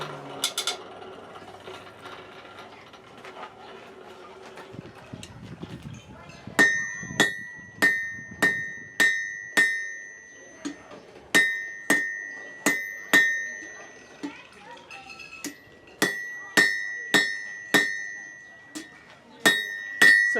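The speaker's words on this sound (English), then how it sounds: "It just gives me different angles to hit it with the hammer to get it off flat like I want it." A blacksmith's hammer rings on metal at a forge in a steady series of sharp, bright clinks grouped in runs with short pauses, fairly close, with low talk and rustling before the strikes begin.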